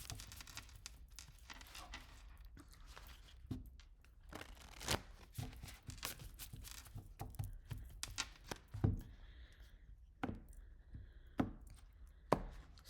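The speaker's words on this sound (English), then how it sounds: "Shuffle and a cut." Tarot deck shuffled by hand and then cut for an earth-sign reading, heard as a string of close, soft riffling flicks and papery slaps with a few sharper taps, with no talking.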